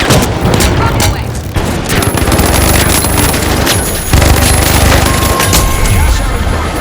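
A heavy's rocket launcher fires amid a chaotic firefight in The Finals, with repeated booms, gunfire bursts and a constant dense roar, loud and close, under in-game voice callouts.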